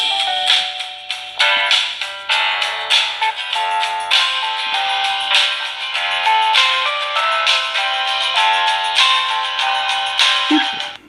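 A UMI Emax mobile phone ringtone plays a bright, repeating electronic melody, loud and continuous for several seconds, with no voices.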